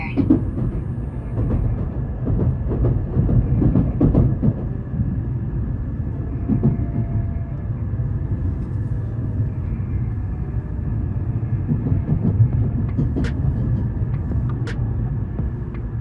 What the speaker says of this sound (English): So the Nozomi Shinkansen is one of the fastest Shinkansen here in Japan